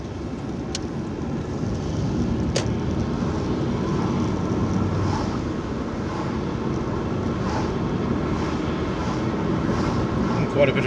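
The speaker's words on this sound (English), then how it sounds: "Quite a bit of traffic here." Road traffic rolls past on a rural road with a tractor about, a steady broadband rumble of vehicles and wind noise holding throughout at moderate level.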